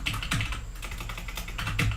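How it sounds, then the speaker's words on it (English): Computer keyboard keys clacking close up in a short, uneven burst of strokes, a couple of sharper presses standing out amid a steady background, with no voices. "Why is this double typing like that?"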